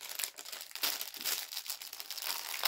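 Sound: opening a pack of polythene plastic bags

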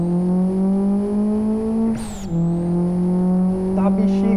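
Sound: Monza turbo car engine in Live for Speed video game

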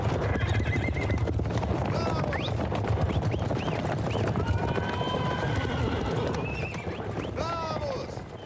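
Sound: horses galloping

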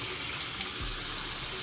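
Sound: water running while rinsing soap from a makeup brush

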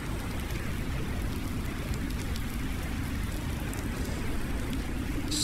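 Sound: rain in Farming Simulator 19 video game

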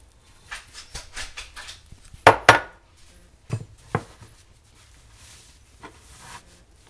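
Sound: scooping a cup of rice into a sock

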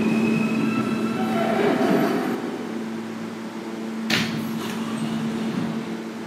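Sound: subway express train at station

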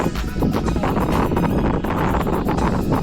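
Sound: strong wind on an observation tower

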